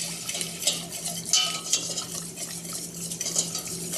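Milk being stirred into a lumpy loaded baked potato casserole mixture, a steady scraping and clinking of a utensil against the bowl with a few sharper knocks, close and alone with no talk.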